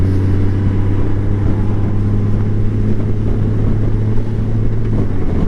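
A DCT-equipped motorcycle rides along a road, its engine giving a loud, steady low drone mixed with rushing wind noise on the microphone, with no talking.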